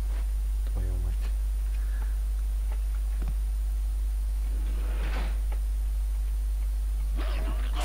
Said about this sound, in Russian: Зачем собак суют в узкое пространство?